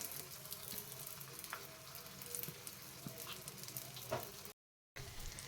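Oats balls fry in a little oil in an appe pan, giving a steady close sizzle with scattered crackles and pops, broken by a brief gap of silence near the end.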